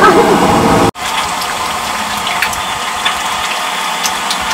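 Liquid is tipped out of a pot while a 14 kg fish is being cooked, giving a steady rushing pour that starts loud, breaks off abruptly, then carries on as a quieter continuous flow.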